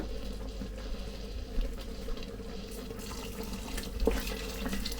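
Boiled water pours steadily into a pot of minestrone soup, a continuous splashing trickle close by, with faint clinks.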